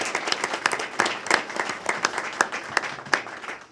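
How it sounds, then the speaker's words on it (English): A press-conference audience gives city staff a round of applause in Guelph, with a small crowd's uneven, fairly close claps forming a brisk, scattered patter that carries on steadily throughout. "I'd actually really appreciate everyone giving our staff a huge round of applause for what they did"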